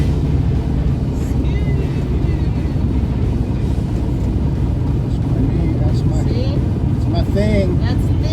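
Small plane landing on a flight to a ranch, a steady loud cabin engine drone throughout with people talking over it.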